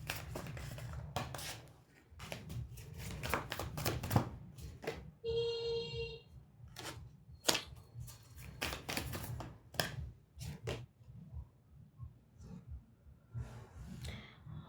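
Tarot cards are shuffled and drawn by hand, a run of quick papery riffles and flicks in bursts with short pauses between, close and fairly quiet.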